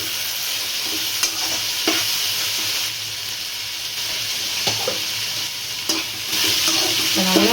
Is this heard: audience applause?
no